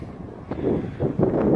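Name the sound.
wind blowing on the microphone outdoors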